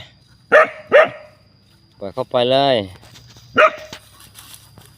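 A dog gives two quick sharp barks, then a longer whining call, then one more bark, all close by, with someone speaking Thai around them.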